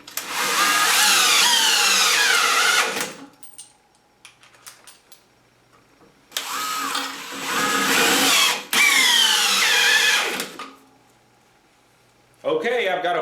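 A DEWALT DCD995M2 20-volt brushless cordless hammer drill drives lag screws through a socket in two loud, whining bursts of a few seconds each, with rising and falling motor pitch and short quiet gaps between runs.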